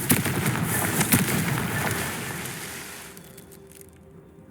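Confringo fire spell from Hogwarts Legacy, a crackling fiery blast with popping bursts that fades out after about three seconds, close and loud with no talking.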